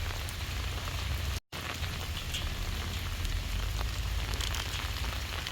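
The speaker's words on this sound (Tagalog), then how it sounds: "May bagyong parating, umuulan." Rain pours steadily on a mountain as a storm approaches, a dense, even hiss of drops striking surfaces close around, continuous apart from one very brief dropout.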